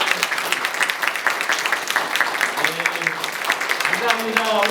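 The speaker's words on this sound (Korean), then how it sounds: "우리 목사님하고 사모님 먼저 뜨거운 박수로 환영해 주시기 바랍니다" An audience at a Korean church revival meeting gives warm applause to welcome the pastors, dense continuous clapping with a voice talking over it and the clapping persisting throughout.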